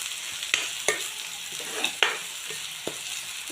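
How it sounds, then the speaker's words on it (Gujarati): Masala dry-roasting with boiled chickpeas in a pan for butter masala chole, a soft steady sizzle broken by several sharp spatula scrapes and clinks at irregular intervals, close and alone. "અને આવી રીતે શેકવાનું છે।"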